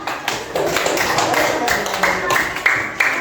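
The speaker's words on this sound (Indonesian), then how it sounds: "beri tepuk tangan untuk kelompok 4" A classroom of students applauds for group 4 during a computational-thinking lesson. The sustained clapping comes in uneven surges with a few louder bursts, and voices can be heard faintly underneath.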